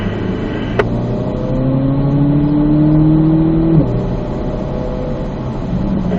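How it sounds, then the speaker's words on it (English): A race car in fourth gear accelerates down a straightaway, its engine holding a steady rising drone with a sharp click near the start and a brief shift-like change toward the end, loud and close throughout. "We'll unwind and accelerate. We're going to be left lane, fourth gear, all the way down the straightaway here"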